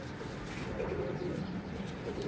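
A blue Kashmiri pigeon coos softly in a low, continuous murmur, close and unbroken, with a faint background hum.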